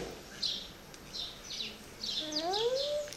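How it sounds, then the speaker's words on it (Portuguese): Faint small bird chirps and short tweets, a few scattered calls with a rising whistled note near the end, heard at a distance over quiet background. "Olha o passarinho."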